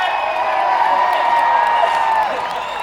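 A large crowd at the Manchester Olympic heroes parade cheers and whoops in a loud, continuous roar that fills the scene from start to finish.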